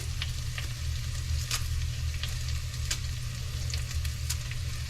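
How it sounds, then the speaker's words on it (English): Garden greens, including arugula, sauté in a pan with a constant close sizzle, sharp little crackles and stirring noises, with no one speaking. "I'm just going to cut it up and just saute it."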